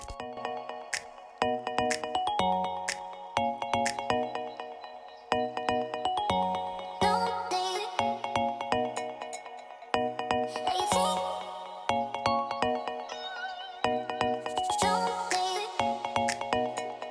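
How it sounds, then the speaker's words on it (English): A Moto e6S phone plays its first-boot startup sound: a bright, chiming melodic jingle of bell-like notes in repeating phrases, clear and close with no talking. "Let us do the first boot of the phone."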